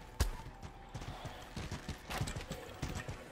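Horse galloping in the medieval combat game Mordhau, a quick run of close, uneven hoof clip-clops with a sharp opening thud and steady rhythmic beats throughout, fairly soft in level.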